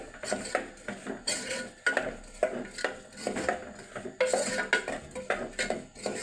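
A spoon clanks and scrapes against a metal pot while grated jaggery and cooked lentils are mixed for bobbatlu, in a quick, irregular series of close metallic knocks with no talking.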